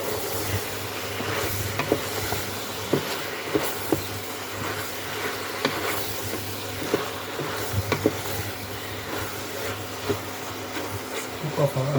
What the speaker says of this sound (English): Cook off our onion and our ginger and garlic